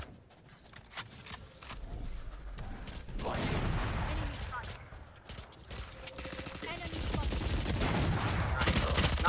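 Gunfire in the tactical shooter Valorant, with several bursts of shots against shotgun-armed opponents, mixed with game mechanism sounds and loud throughout; players talk over the action.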